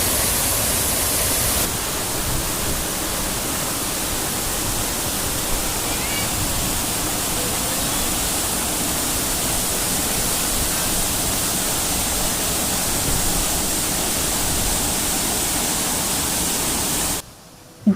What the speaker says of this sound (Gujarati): પાણીની ગર્જના કાનમાં સંગીતની સમાન વાગે છે.